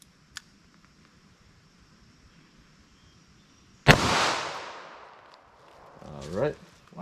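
A Sellier & Bellot .38 Special lead round nose round is fired from a snub-nose revolver into ballistic gel: one sharp, loud shot after near quiet, with a decaying tail and a brief voice shortly after.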